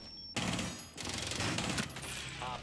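Rapid automatic gunfire from an overpowered gun in Rainbow Six Siege, loud bursts that cut in sharply and rattle on in a dense stream with a short break partway, game effects over the top.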